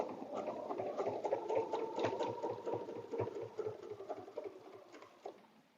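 A sewing machine stitches a quilt around a template in a fast, even run of needle strokes, a moderately close mechanical whir that fades toward the end, with no talking.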